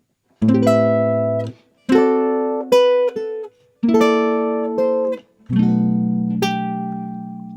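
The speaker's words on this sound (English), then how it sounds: "It's a very beautiful series of drop 2 voicings" Solo jazz guitar playing a series of drop 2 chord voicings: about five ringing, strummed chords with separate note attacks, each left to sustain and decay, close and clear.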